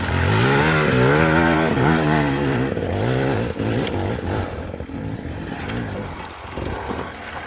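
A 2025 Beta two-stroke motorcycle climbs a steep, slippery, low-traction trail, its engine loud and close, revving and bogging in uneven waves with clattering over rough ground.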